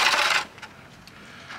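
Coins clink and jingle close by as they drop into a coin-operated water-filling machine at a motorhome campsite in Germany, with a brief loud rattle followed by a few fainter clicks.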